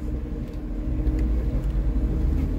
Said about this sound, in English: Probably the car. It's really loud.